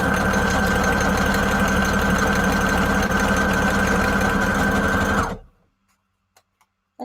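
A sewing machine stitches paper scrap embellishments with a loud, close, steady mechanical whir and rapid needle chatter for about five seconds, then stops, leaving near silence with a few small clicks.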